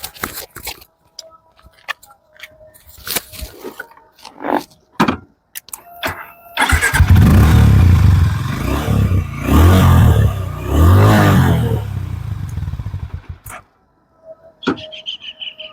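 After some clicks and handling noises, a Hero Mavrick 440 motorcycle starts and its exhaust burbles loudly nearby, revving a few times before shutting off.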